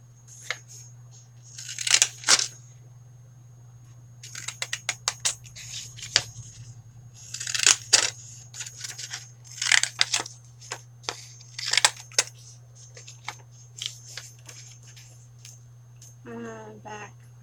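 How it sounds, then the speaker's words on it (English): Scissors snip through scrap paper for a handmade journal, a series of crisp, close cuts in irregular clusters over a steady low electrical hum, with brief rustling of paper at the end. "Scissors for these."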